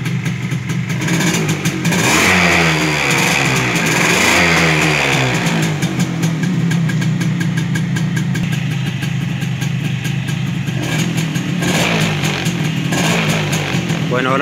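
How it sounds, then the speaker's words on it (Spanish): A motorcycle engine starting and running, rumbling and idling steadily throughout with a couple of light revs, close by and fairly loud. "ahora procedemos a arrancar la moto"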